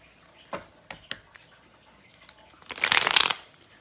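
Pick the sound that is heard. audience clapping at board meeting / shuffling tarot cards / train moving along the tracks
shuffling tarot cards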